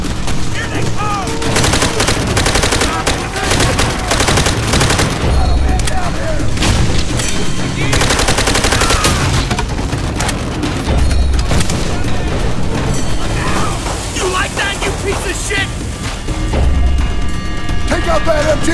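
Enemy machine gun fire in the World War II shooter World at War, rattling through a dense, loud battle with booms and other gunfire throughout.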